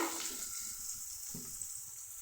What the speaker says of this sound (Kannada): ಸಾಸಿವೆ ಚಿಟ್ಚಿಟ ಅಂತ ಐತೆ. ಸ್ವಲ್ಪ ಈರುಳ್ಳಿ ಹಾಕ್ತಾಯಿದ್ದೀನಿ